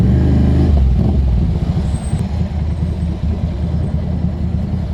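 Road traffic surrounds a motorbike in the Philippines: a loud, close rumble of car and truck engines, heavy at first and then easing into a steady low churn of idling and moving vehicles.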